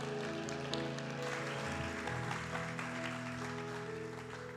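Welcoming applause fills a church service, a steady wash of many hands clapping at moderate distance with sustained tones lingering beneath, fading slightly toward the end.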